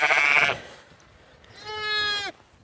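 Sheep and lambs on an Irish farm, two close bleats separated by a short pause, the first lower and rougher, the second a higher, sustained lamb-like cry.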